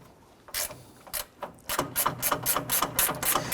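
A ratchet works loose the bolts holding a car's center beam to the radiator support. Quick, rhythmic clicking strokes come close and sharp, first in a few separate pulls, then in a steady run of clicks.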